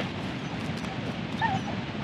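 Small dogs in the game INSIDE make short yipping, whimpering sounds over a steady low background rumble, brief and not very loud.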